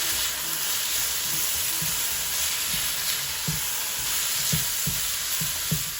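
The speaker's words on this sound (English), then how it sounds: "I'll let this fry a little bit more to get a little more brown" Okra with garlic sizzles and fries in a pan, a steady hiss with soft periodic clacks of stirring, close and alone with no talk.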